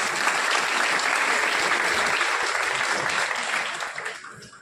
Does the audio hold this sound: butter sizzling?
no